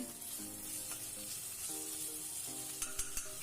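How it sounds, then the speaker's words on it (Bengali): Garlic paste and spices fry in a little oil over a low to medium flame, giving a steady soft sizzle, with faint clinks of stirring toward the end. "মশলাটা এখন কষিয়ে নিচ্ছি লো টু মিডিয়াম ফ্লেমে আছে"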